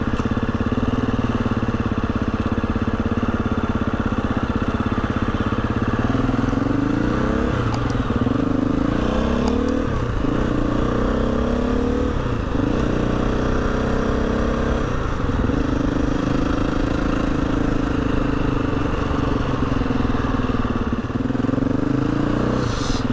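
A Husqvarna FE 350 motorcycle engine idles steadily and close by, with a few slight throttle blips among the even running; no talking is heard.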